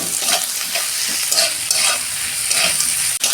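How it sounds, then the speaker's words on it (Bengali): Onions frying in a pan for an egg dish, a steady close sizzle with bursts of stirring and scraping running throughout, no talking. "বন্ধুরা পেঁয়াজটা আমি একটু লাল লাল করে ভেজে নেব"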